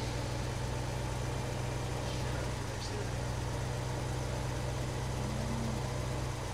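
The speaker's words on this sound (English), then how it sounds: "I'm going to hop in the anti-tractor tractor" A tractor engine idles in a farming game, giving a steady low rumble with a faint rhythmic throb that stays even throughout at close range.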